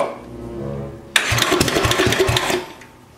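A Tecumseh HH100/HH120 small engine with a swapped carburetor catches after a second of near quiet and runs loudly and roughly up close for over a second before easing off.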